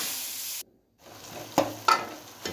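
Chopped chicken being stirred into a pot of haleem, with a few short scraping stirs of a spoon against the pot under a faint steady background hiss, no talking.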